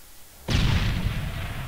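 A grenade goes off in a first-person shooter match, one sudden loud blast that cuts in from near silence and leaves a long rumbling, crackling roar trailing behind it.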